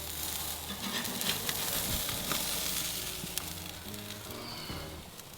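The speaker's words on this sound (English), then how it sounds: "So we are actually grill shallow poaching." Grouper sears on a hot grill while being shallow-poached, with a steady, dense sizzle and faint crackles throughout, close and with no talk.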